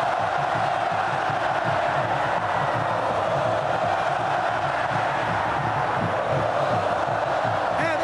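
Santos supporters fill a football stadium during the 2012 Campeonato Paulista final against Guarani, their steady crowd roar and chanting sustained at a distance with rhythmic swells, under faint commentary.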